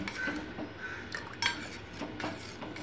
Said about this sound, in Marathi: स्लो गॅसवरती छान असं हलवायचं आहे